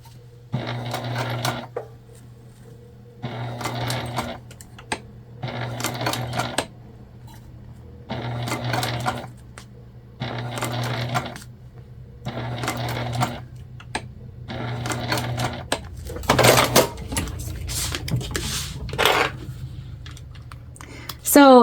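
Sewing machine stitching a tote bag, about eight short regular whirring bursts with brief gaps, then rougher irregular stitching and handling noises toward the end.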